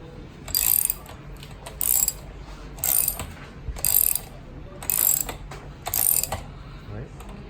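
Ratchet wrench tightening the front suspension fork of a ZERO 9 or 10 electric scooter, six or seven short bursts of rapid clicking at regular intervals, close and clear.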